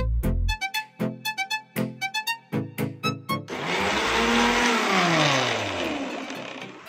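An electric mixer grinder blends a cooled dates milkshake in a mixie jar, starting with a run of short pulsed bursts and then settling into a steady, loud whirring drone.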